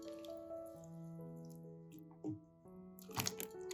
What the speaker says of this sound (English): Rinse 2 to 3 times until the water is clear and there is no residue.